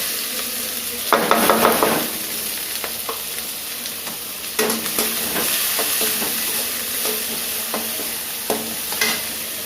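Onion, carrot, capsicum and green peas sautéing in a hot pan, a continuous close sizzle broken by several louder crackling bursts as the spoon moves through them.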